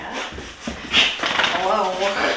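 A dog panting and whimpering indoors, short breathy pants and a high whine mixed under people talking close by.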